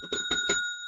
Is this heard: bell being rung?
yes